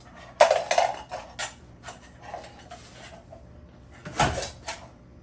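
Ultralight camping cook pot and small pot scraper handled up close, with sharp metallic clinks and scraping rattles in a few bursts, a loud clatter early and another near the end, no talk.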